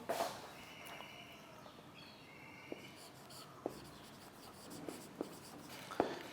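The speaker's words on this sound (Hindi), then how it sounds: "मैं लिख भी देता हूं" Chalk or marker writing on a board during an English lecture, heard as faint scattered taps and scratchy strokes against a quiet room tone, with a few sharper clicks spaced a second or so apart.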